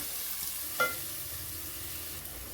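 Chopped onions and green chillies frying in a pan for spinach paneer, a steady faint sizzle with one brief scrape of stirring near the start, no talk.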